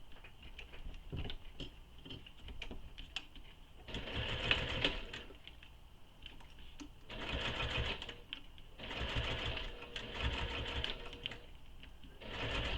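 Sewing machine stitching all the way around a bag panel with a zipper foot, a steady mechanical whirr in several bursts with short pauses between runs, close and alone.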